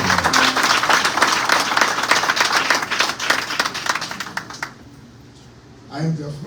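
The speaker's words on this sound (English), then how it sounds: "So let's give a round of applause" An audience at a congressional candidate forum breaks into a loud round of applause lasting about four and a half seconds before it fades, and a voice speaks briefly afterward.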